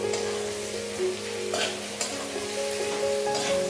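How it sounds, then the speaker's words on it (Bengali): Onions fry in a pan for Bihari-style mutton, a close, steady sizzle with a crackling hiss and occasional scraping stirs rising above it, no voices. "এদিকে আমার পেঁয়াজ এখনো ভাজা হচ্ছে"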